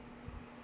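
Single short, quiet cough near the end of a brief stretch of low background noise, with a faint earlier throat sound and no speech.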